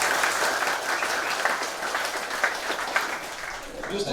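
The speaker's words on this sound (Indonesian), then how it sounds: "Tepuk tangan dulu." An audience of cleaning workers in Mimika claps at a ceremony where they receive BPJS health and employment insurance cards. The applause is fairly quiet and continuous, with faint voices mixed in.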